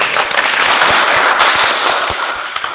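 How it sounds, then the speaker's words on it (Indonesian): Dense, loud applause from a group at a vocational high school (SMK) session joined live over Google Meet, a steady wash of many hands clapping for about three seconds with no talking. "tepuk tangan untuk kita semua"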